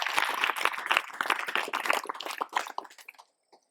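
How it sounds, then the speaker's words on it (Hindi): An audience claps enthusiastically in a dense burst of applause that thins out and fades to silence after about three seconds, with a last stray clap. "अपने लिए ताली बजाओ।"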